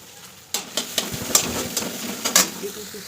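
Chopped onion, chili, ginger and vegetables are stirred in a hot pan, with a run of sharp scraping strokes and spatula taps over a soft, continuous sizzle.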